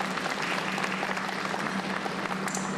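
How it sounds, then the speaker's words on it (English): Loud, dense audience applause at a faculty and staff wellness day luncheon, continuous clapping from a crowd close by with a faint steady hum beneath. "Let's give him another round of applause."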